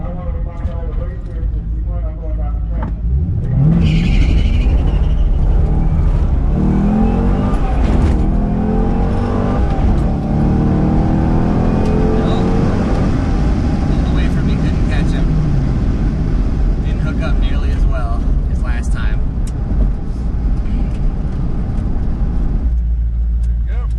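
A bone-stock Chevrolet Corvette Z06 roars loudly at a drag strip, its engine revving and accelerating hard through the run, with talk heard over the sustained close-up drone.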